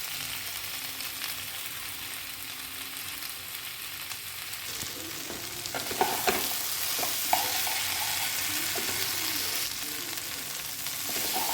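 Chickpeas frying in mustard oil in a pan give a steady broadband sizzle, with scraping stirs breaking in now and then, most clearly in the second half.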